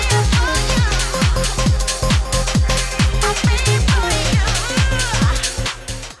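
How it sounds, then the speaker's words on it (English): PSX-inspired house dance track with a steady four-on-the-floor kick, punchy bass and bright retro synth layers, loud and continuous throughout. "he makes PSX-inspired house dance type shit"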